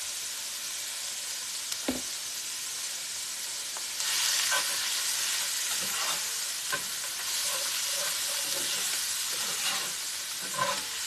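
Onions sizzle and fry in grease on a hot griddle with a steady hiss, which swells louder midway, and occasional scrapes and stirring knocks sound close up.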